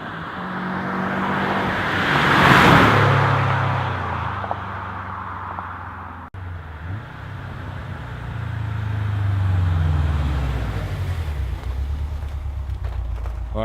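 A Subaru STI fitted with an Invidia Q300 hi-flow catted downpipe accelerates past at night, its engine note swelling loud and rough as it nears, fading, then rising again with a second pass.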